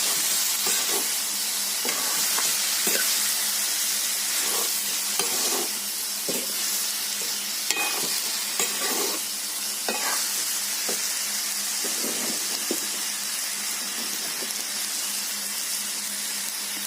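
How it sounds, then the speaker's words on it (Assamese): Pork and tomato fry in a pan with a steady, loud sizzle and hiss, while a spoon or spatula repeatedly scrapes and stirs in uneven strokes close by; no one speaks. "ভালকৈ ভাজিব এতিয়া মাংসখিনি খুব লৰাব। বিলাহীখিনি গলি যোৱালৈকে লৰাই থাকিব।"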